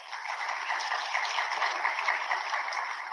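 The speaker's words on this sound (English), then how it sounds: "A huge round of applause." A large audience at the Smart India Hackathon 2023 grand finale ceremony applauds in a continuous, even wash of clapping, heard somewhat distant and thin as if through a hall sound system.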